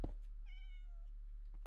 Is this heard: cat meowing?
yes